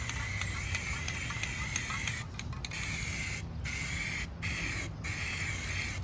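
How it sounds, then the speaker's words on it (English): Black spray paint hissing from an aerosol can onto the 42-inch deck of a Craftsman LT1000 lawn tractor, a steady close spray with several short pauses between bursts, no talking. "Spray it until you see it's shiny"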